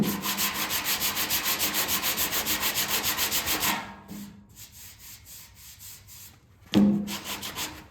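Body filler on a car panel being sanded with rapid, rhythmic back-and-forth rubbing strokes, loud and close, stopping partway through before a brief quieter scrape and a final burst of sanding.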